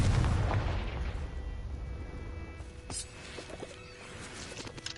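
Spell explosion from Confringo cast in the Hogwarts Legacy video game: a loud boom at the start that decays into a rumbling, crackling tail with scattered pops and magical shimmer.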